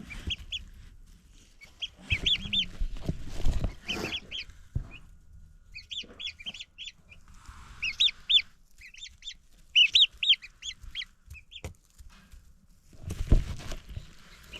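Chickens clucking on a Montana homestead farm, close bursts of squawking and clucks from several birds in scattered clusters, with rustling and handling noises between them and no talk.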